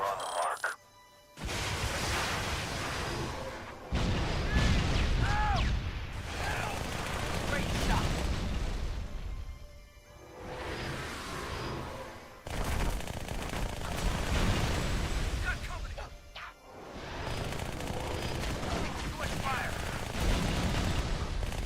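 Dual SMGs firing in the video game Halo: Spartan Assault, dense rapid bursts of automatic gunfire that run nearly continuously with brief gaps, loud and close, mixed with game effects.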